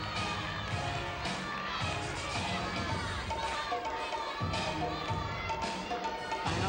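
Home crowd at a 2008 NCAA gymnastics meet, Georgia at Alabama, filling an arena with steady loud cheering and chatter during a floor routine, a continuous dense roar with voices mixed in.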